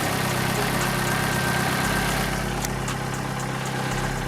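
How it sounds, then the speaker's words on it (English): A Vauxhall Corsa engine idles steadily just after being started following a coil pack replacement, a continuous low rumble with even vibration throughout and no voices. "we're gonna start the car now"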